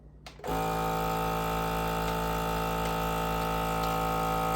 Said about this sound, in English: So I just close the lid, turn the lever to the on position, and I hit vac and seal.